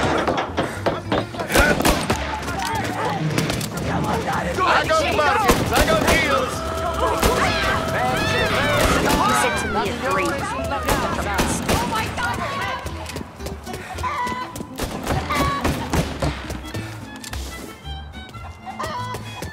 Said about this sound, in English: He's shooting at people!